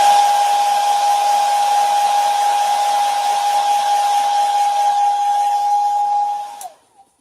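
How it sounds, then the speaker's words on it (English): A hair dryer blows steadily with a constant whine and airy hiss, then switches off and winds down near the end. "I find a hot hairdryer on your lap"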